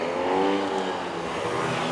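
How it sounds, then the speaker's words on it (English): A race car drives along a Paris street near the Arc de Triomphe, its engine a steady, moderately distant hum that holds for a moment without a sharp pass-by. "That's a race car just on the street."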